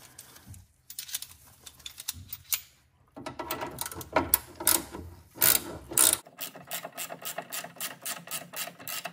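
Lug nuts spun hand-tight onto a wheel of a stock Porsche Cayman GT4 981, giving close, rapid clicking and ratcheting bursts with short pauses, ending in a steady run of evenly spaced clicks.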